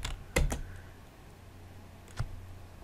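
Computer keyboard keystrokes sound as a short burst of a few quick clicks followed by a single later tap, close and crisp against a quiet room.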